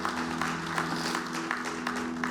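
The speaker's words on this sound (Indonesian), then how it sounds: "Berikan tepuk tangan buat Tuhan." A church congregation claps together in a steady wash of applause, moderately loud and sustained, with a sustained musical tone beneath it.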